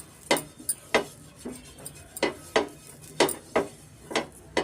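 Half an onion is rubbed back and forth over a lightly oiled dosa pan before cucumber dosa batter goes on. Soft, evenly spaced scraping strokes repeat about eight times over a faint sizzle, close and fairly quiet.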